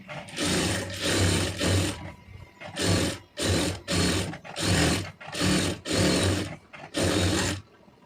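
A sewing machine stitches a saree-border puff sleeve in loud, close bursts of rapid whirring, about nine runs of under a second each with brief pauses between.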